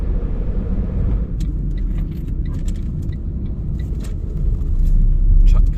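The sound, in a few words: truck driving on main road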